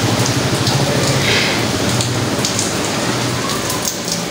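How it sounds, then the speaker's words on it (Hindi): Heavy monsoon rain pours off a house roof and splashes down onto outdoor stairs, a loud, steady, dense wash of falling water with constant spatter, close by and with no talking. "हमारे यहाँ जब तेज़ बारिश होती है तो ये हमारे छत से सीढ़ियों पे भी आ जाता है पानी"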